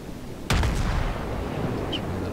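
A single booming naval gun salvo in the World of Warships game, a sudden sharp blast followed by a rumbling decay over low background battle noise.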